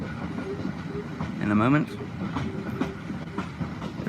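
A Bluebell Railway heritage train crosses the Imberhorne Viaduct south of East Grinstead in the Sussex countryside, a steady rail rumble running beneath continuous talk, with a brief louder swell midway.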